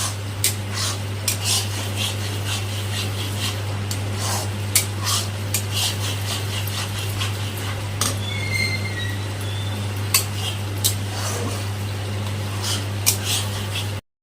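A utensil stirs fish with mustard and onion in a pan, making repeated scraping and clinking strokes over a steady low hum and soft sizzle, close and continuous, with no talking.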